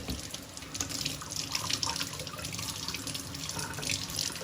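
Steady stream of tap water running into a sink while dirty shoelaces from Nike Crater Impact sneakers are held under it to wet them, a continuous close splashing hiss with small fluctuations.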